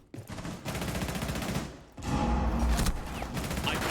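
Video game shootout gunfire rattles in dense fusillade bursts, a first volley then a louder, heavier stretch after a short pause, fairly close and continuous.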